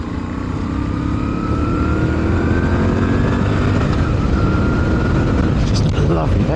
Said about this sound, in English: Lovely, that engine is really nice.